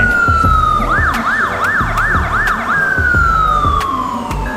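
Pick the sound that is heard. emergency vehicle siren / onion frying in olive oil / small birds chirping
emergency vehicle siren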